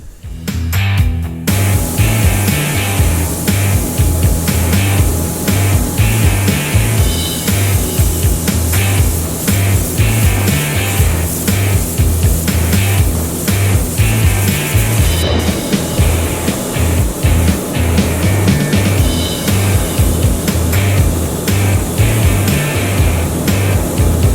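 A spray gun hisses continuously and loudly, spraying Raptor Liner bedliner coating on a trailer, a steady pressurized spray with a compressor-like rumble underneath, briefly interrupted near the start and midway.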